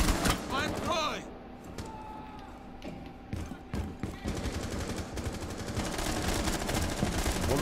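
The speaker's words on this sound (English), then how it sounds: "Where are we taking fire from, boys?" Gunfire rattles in a tactical shooter video game, with rapid automatic bursts and single shots over steady game noise, loud and close, while voices talk over the action.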